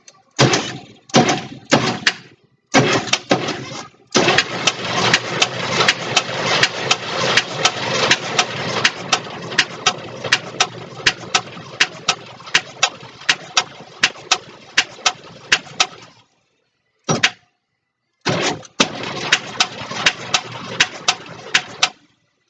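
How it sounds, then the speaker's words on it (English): A 1962 Cadillac Sedan Deville engine with sticking valves cranks over in long bursts, a dense rapid chatter broken by short pauses and a few brief restarts, loud and close with no voices. "that's valves semi getting stuck and popping back up and hitting the rocker iron"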